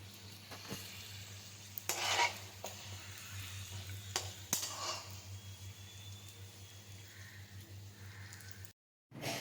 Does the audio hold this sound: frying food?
yes